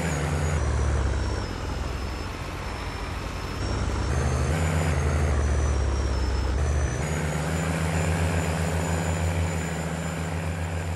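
A large tractor engine runs steadily in an open field. Its loud, continuous low rumble carries a droning whine, shifts load now and then, and sounds close with no talk.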